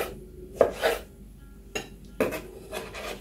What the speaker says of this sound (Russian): Брусочками нарезаем пару небольших помидоров